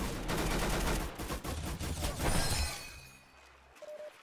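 Grease gun fire in the video game Arsenal: a rapid string of loud shots, then a crash and fading tail in the last second.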